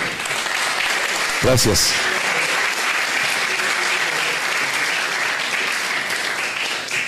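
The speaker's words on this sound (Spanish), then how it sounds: "un aplauso para ellos" Steady, dense applause from an audience at a university lecture fills the space, with a brief spoken word cutting through the clapping.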